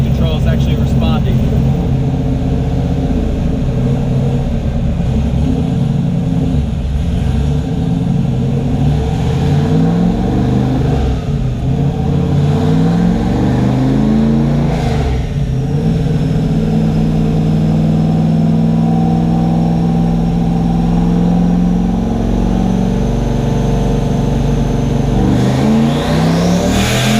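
A turbocharged 427ci Corvette engine with an 88mm turbo makes a dyno pull: loud, close exhaust whose tone climbs steadily through the revs, easing off near the end before a fresh rise.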